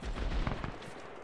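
A quick flurry of gunfire in Arma 3 during a World War II invasion of Poland battle, several sharp shots crackling close together over a short stretch.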